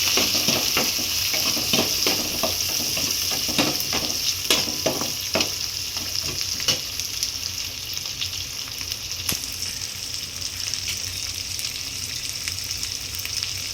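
Spices and garlic sizzle steadily in a hot pan for a Tamil medicinal kuzhambu, with a continuous frying hiss and quick scraping stir clicks during the first half before the sizzle settles into a constant loud crackle.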